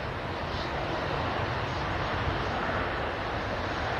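An airliner approaching to land at Manchester Airport in breezy conditions makes a steady, broadband engine rumble with wind rush, holding an even loudness throughout.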